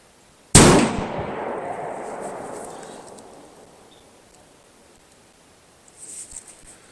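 A single loud, sharp gunshot from a .454 Casull revolver, close by, with a long ringing decay outdoors and faint rustling afterward.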